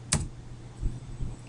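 A few sparse keystrokes on a computer keyboard while entering a command in Windows 7, one sharp click followed by two softer taps, quiet and close with no talking.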